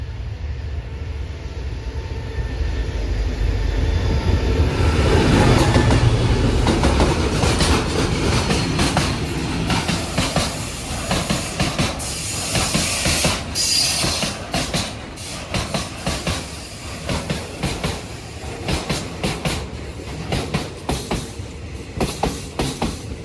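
A State Railway of Thailand freight train passes close by near Hin Lap station on a mountain line. A loud, steady rumble builds, then gives way to rapid clickety-clack wheel beats over the rails, with no voices.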